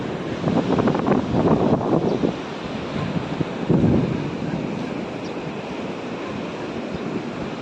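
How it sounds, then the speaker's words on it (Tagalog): Waves and wind at a seaside beach in Santa Isabel, a loud, continuous roar of surf with gusty wind buffeting the microphone, swelling early and then settling into a steady rush. "Nandito tayo sa tabing dagat."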